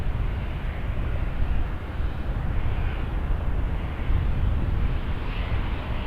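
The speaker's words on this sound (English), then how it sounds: "Airbus A319." An Airbus A319 airliner at Toronto Pearson airport roars steadily at night, a broad, continuous engine rumble heavy in the low end that holds at an even loudness throughout with no voices.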